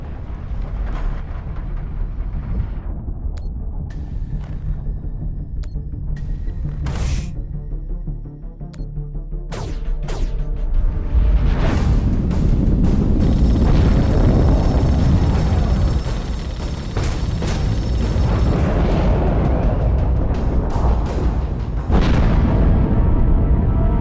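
Torpedo launches and explosions in a space battle from The Expanse game, with loud deep booms and sharp bursts giving way to a sustained roaring rumble of blasts.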